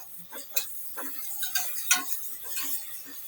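Onions sautéing in a pan for prawn biryani, salted as they cook: light scraping and clinking from a spoon working through them, with a faint sizzle underneath, quiet and close, with no voices.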